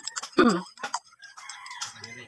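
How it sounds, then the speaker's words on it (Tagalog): A chicken clucks and squawks agitatedly close by, several sharp calls in quick succession. "Nagalit yung manok."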